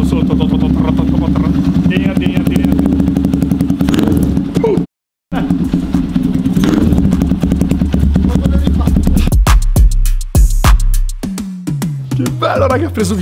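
A KTM motorcycle fitted with a new aftermarket exhaust fires up for the first time, its loud, raspy engine revving hard and close, cutting out briefly before roaring again, with people talking over it.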